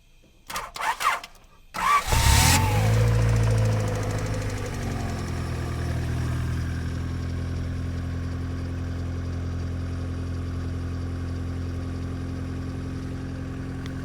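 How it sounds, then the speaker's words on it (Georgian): A Honda CRX with a VTEC engine cranks in a few sharp bursts, catches with a loud roar, then settles into a steady, throbbing idle that runs on alone for several seconds. "ეს მანქანა დავქოქ"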